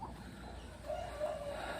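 Soft clucking of chickens outdoors in a garden, a brief faint call rising over quiet background noise, somewhat distant.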